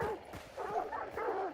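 A dog in a video game set in 19th-century Louisiana gives a few quick, faint yips and whimpering barks in a short, uneven run.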